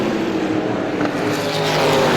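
Race cars roar around a speedway oval during a super feature race, a loud, dense, continuous engine drone with no talking.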